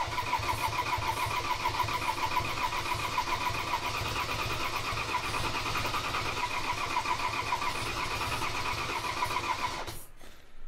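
A 2015 Ford Transit 2.2 TDCi diesel van cranks continuously for about ten seconds without firing, the starter churning at an even, rapid rhythm, loud and close, before cutting off abruptly.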